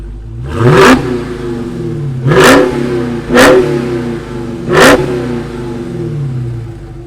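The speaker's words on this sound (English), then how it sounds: "how does the engine sound if we just rev it?" A 2021 Dodge Charger SRT Hellcat Redeye Widebody revs four times in a row, each blip a loud, sharp roar from a settled idle that rumbles on between bursts, with no speech.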